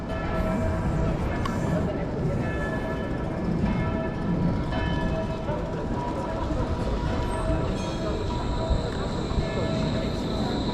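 A train passing in Bern, Switzerland, heard as a sustained rumble and rolling rail noise with faint squeal tones, close and loud, with people talking at times over it.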